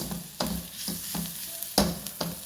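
Onion frying with chilli powder, pepper powder and garam masala in a pan for puff filling: a steady sizzle broken by several sharp scraping stirs, close and moderately loud, with no talking.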